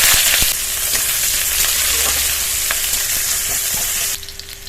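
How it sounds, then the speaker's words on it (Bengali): Chopped onions hit hot oil in a heated wok, a loud sizzling hiss with a few stirring clinks, easing slightly partway through and dropping sharply near the end. "গরম তেলে দিয়ে দেবো পেঁয়াজ কুচি"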